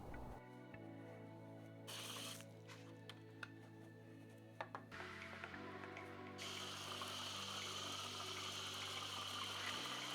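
Water from a hose or pressure washer rinsing a truck's wheels and tires, a steady rushing spray with a low pump hum underneath, loud and close, shifting in tone as the stream moves across surfaces.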